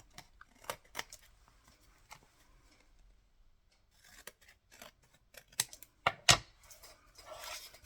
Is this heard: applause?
no